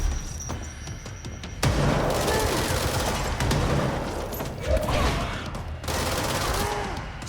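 Player's gun in the video game Control: dense, loud volleys of rapid gunshots with booming impacts, coming in long bursts separated by brief lulls amid game action.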